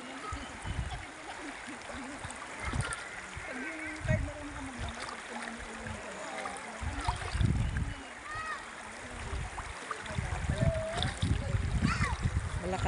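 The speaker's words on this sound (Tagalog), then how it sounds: "Malakas na rin agos niya." Lipit River flowing strongly in a natural setting, a faint continuous rush of water with light splashes, heard under people talking.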